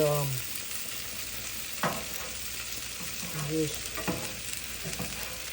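Beef and corn fries sizzle on a Blackstone griddle with a constant, close hiss and several spatula scrapes and clacks, while someone speaks briefly over it.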